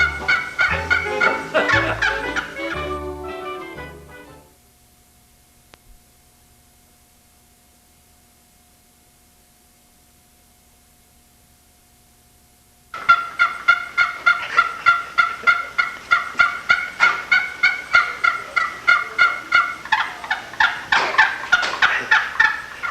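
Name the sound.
wild turkey call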